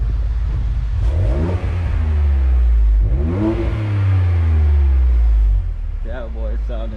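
A Ford Fusion with a custom MRT Performance exhaust revs loudly in several deep, rising bursts that fall away, followed by quicker short blips, with people talking over the engine.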